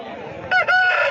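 A rooster crows once, loud and close, a strained rising call over a murmur of background chatter at the Pileru poultry market.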